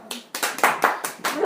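Comedy show audience giving scattered, separate claps, about six sharp bursts in quick succession.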